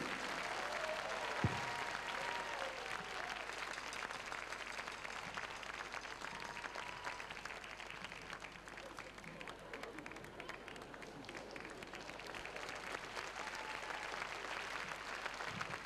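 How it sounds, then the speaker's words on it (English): Audience applause at a live Italian-themed comedy show, a broad steady wash of clapping lasting throughout, moderately loud with a sharp isolated crack near the start and some murmur underneath. "A big applause for my assistant."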